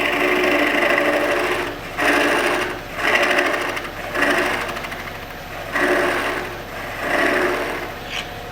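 A wood lathe turns a tenon on a woodturning blank, steady whirring hum overlaid by rough, repeated cutting and scraping bursts from the tool, rising and falling about once a second, close and loud.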